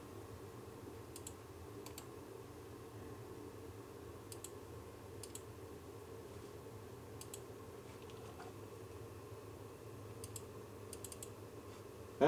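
Computer mouse clicking during setup of a Western Digital 8TB Easystore drive, faint scattered pairs of sharp clicks over a steady low room hum.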